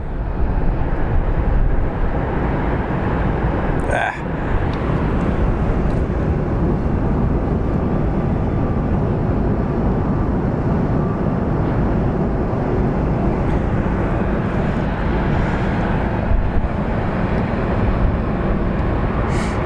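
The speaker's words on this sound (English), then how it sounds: "we have our Spirit Airlines coming in from Detroit" Spirit Airlines airliner from Detroit on approach to Phoenix Sky Harbor airport, a loud, steady broadband jet roar holding for the whole stretch with little change, no voices over it.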